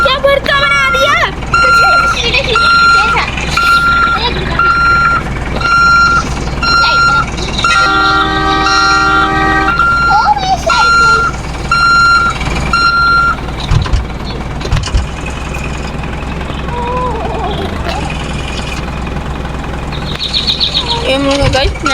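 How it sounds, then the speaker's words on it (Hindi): A truck reversing in Roblox: a repeated electronic reversing beep pulses steadily over an engine drone, alongside other game tones and chatter from players talking throughout. "मैं ना रिवर्स गियर में पीछे को खींचूंगा"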